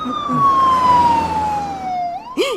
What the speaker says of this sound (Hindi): आ तो एम्बुलेंस छे